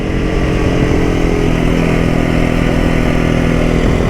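A supermoto motorcycle engine revs steadily and loudly up close, its strong continuous drone holding throughout with no speech over it.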